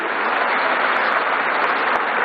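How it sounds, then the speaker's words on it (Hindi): Dense, steady clapping from a large audience in an auditorium, applauding Ram Bahadur Rai at a Samvidhan Hatya Diwas 2025 event, loud and continuous for the whole moment. "जोर से जरा ताली बजाइए राम बहादुर जी के लिए"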